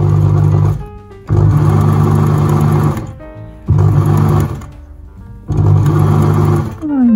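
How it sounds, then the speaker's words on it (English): A sewing machine stitches a linen face mask, running in three loud, steady bursts with short quiet pauses between them, close to the microphone. "Gently sew along here, like so."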